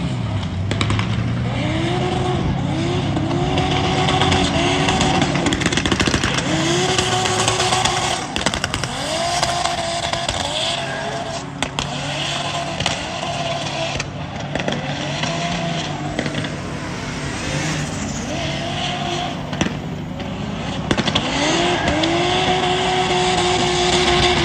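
Engine of a Nissan S14 drift car at drift practice, revving and sliding in a loud, continuous roar with repeated rising and falling pitch sweeps, other engines droning underneath.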